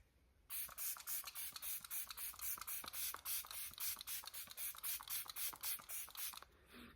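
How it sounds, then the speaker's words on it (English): A fine mist of makeup setting spray puffs from a pump bottle in a rapid run of about twenty short, even hissing bursts, close and fairly quiet, with no voices. "It is a very fine mist of a setting spray."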